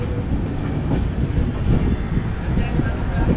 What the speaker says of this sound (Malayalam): New Delhi railway station.